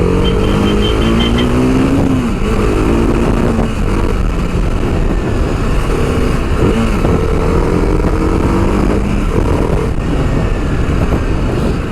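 A 2025 TVS Apache RR310 motorcycle rides at speed with a loud steady engine drone and rushing wind, the pitch shifting as gears change, with no speech.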